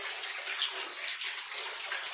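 Water running steadily through a drain or pipe in a permaculture washing area, a continuous soft, even babbling rush with no voices.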